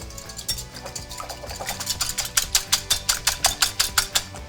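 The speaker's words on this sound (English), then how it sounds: "We're going to whisk this all up together." Eggs being whisked in a bowl for an omelet, a fast run of bright rhythmic clicking strokes that builds in speed and loudness toward the end, close and alone.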